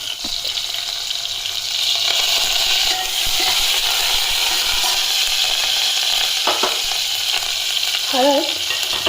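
Fresh curry leaves hit a hot tempering for mung dal and sizzle loudly and steadily up close, with scraping stirs in the pan and no talking.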